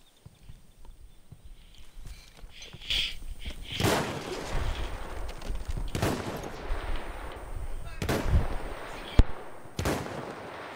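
Rifle fire in Battlefield 1 comes as sharp, scattered shots, some close and loud with sudden cracks and others farther off, spaced irregularly over a low rumbling background.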